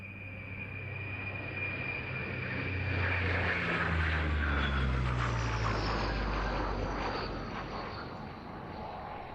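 A Breguet Atlantique maritime patrol aircraft passes at an air show, its propeller drone swelling to a loud peak mid-pass and then easing away, the pitch sliding downward as it goes.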